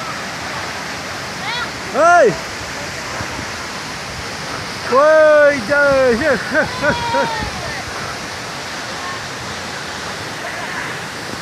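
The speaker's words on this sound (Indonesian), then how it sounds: "akhirnya sampai di air terjun" A steady roar of rushing water from Coban Rondo waterfall in Malang, East Java, fills the scene, with people calling out over it.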